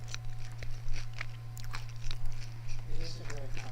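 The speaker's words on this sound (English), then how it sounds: "They can hear me crunching away. It's a very crunchy piece of toast." Someone chews and bites a very crunchy piece of toast close to the microphone, with repeated crisp crunches under a steady low electrical hum and occasional background sounds.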